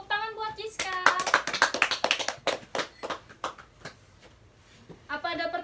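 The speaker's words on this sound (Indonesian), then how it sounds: "Tepuk tangan buat Jiska." Applause breaks out in an elementary school classroom for a student, a burst of quick claps lasting a few seconds, with young voices calling out before and after.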